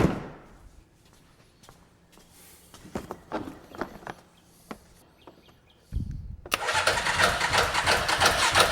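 A UTV engine cranks after its solenoid is jumped: a sequence of sharp clicks and brief turning bursts, then a louder stretch of cranking and a sustained running roar filling the last few seconds, close by.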